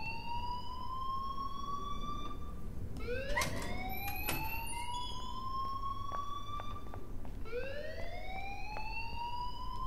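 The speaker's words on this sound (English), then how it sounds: "please turn off that alarm since that's your job" Alarm blaring in the video game Life Is Strange: a loud, continuous electronic wail rising and falling in repeated sweeps, with higher harmonics, sounding alone without talk.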